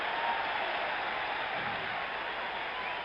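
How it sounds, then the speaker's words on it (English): A 1977 World Series Game 6 crowd at Yankee Stadium roars after a groundout to shortstop, a dense, sustained wash of distant cheering and applause that stays steady throughout. "This Yankee crowd will be roaring all night long with every single out"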